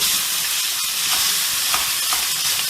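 Curry leaves frying in hot oil while making peanut rice, a steady loud sizzle with a few sharp crackles and pops, no voices.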